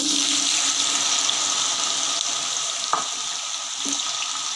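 Okra fries in about a cup of hot oil, giving a steady close sizzle with faint crackles and no voices.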